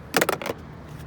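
Keys to a 2007 Ford Escape XLS with a manual gearbox jingle briefly as a metal key ring, a short close burst of bright clinking lasting about half a second before quiet.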